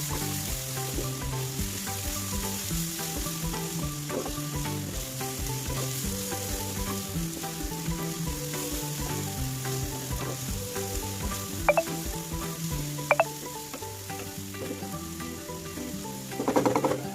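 Potato pieces with garlic paste, coriander powder, garam masala and chilli powder fry in a pan and are stirred. A continuous sizzle with scraping runs under background music, with a few sharp clicks near the end.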